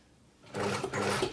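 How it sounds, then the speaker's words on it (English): A sewing machine stitches along the folded seam allowance of a blouse, starting after a quiet moment with a steady close whirr that pauses briefly and then continues. "sewing right on the edge of that folded seam allowance and just giving the underneath a little pull"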